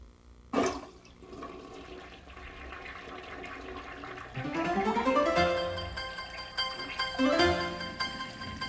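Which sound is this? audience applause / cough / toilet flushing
toilet flushing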